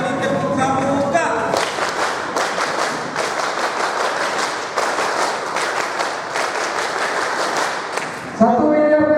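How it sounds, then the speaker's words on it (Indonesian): A large group of new boarding-school students performs tepuk pramuka, the scout-style rhythmic clapping, in crisp repeated bursts for several seconds, with a speaker's voice heard at the start and end. "Kali tepuk pramuka."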